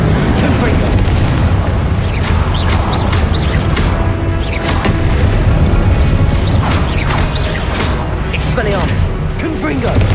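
Confringo spells in Hogwarts Legacy set off repeated heavy booms and crackling bursts, loud and close over a dense battle din, with voices in the mix.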